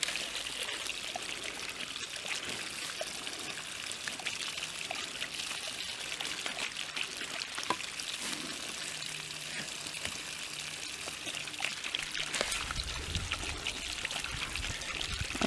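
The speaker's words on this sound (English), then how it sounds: "There's ice in the water hose." Garden water hose with ice frozen inside, water pouring and trickling in a steady faint outdoor stream with a few spits and splashes toward the end.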